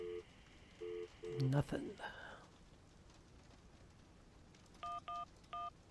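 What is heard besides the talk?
telephone dialing in video game Syberia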